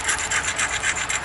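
An obsidian biface edge ground during flint knapping gives a close, steady rhythmic rasping, about five quick back-and-forth scrapes in just over a second.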